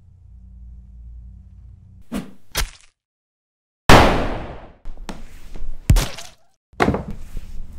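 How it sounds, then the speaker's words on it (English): A single sharp gunshot in a short drama film, set inside a building at night: a sudden loud crack with a quick decaying tail, between softer thuds and knocks. "Was that a gunshot?"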